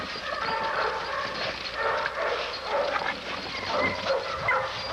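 A kennel dog gives repeated close yips and bow-wow barks, some whimpering, in quick uneven bursts at a yard, loud and near with no speech over it.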